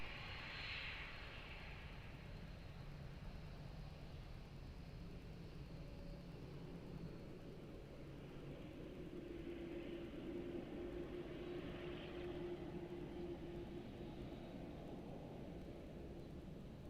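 A plane taking off from runway 02 at Lisbon Airport, a faint, distant, continuous jet roar with a low drone that swells gently midway and holds steady throughout.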